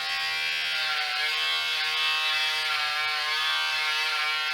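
A Philips Norelco Series 7000 vacuum beard trimmer runs on its turbo setting, giving a steady, close, loud electric buzz with a bright whine that holds unchanged throughout, with no voices.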